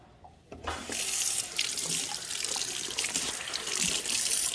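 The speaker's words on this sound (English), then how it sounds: "you want to really clean these your fruits and vegetables out because you got to eat it" Fruits and vegetables rinsed under a running kitchen tap, the water switching on and pouring steadily into the sink with splashing as produce is handled beneath the stream.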